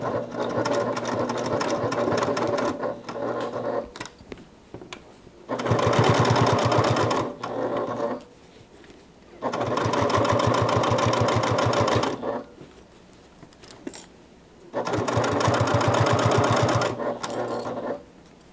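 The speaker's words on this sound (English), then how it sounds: "So when I top stitch this closed, I'm just going to use a scant 1/8 inch seam allowance to make sure that that pocket stays closed." Sewing machine top stitching a pocket closed with a scant 1/8 inch seam allowance, running in four steady bursts of a few seconds each, separated by short pauses.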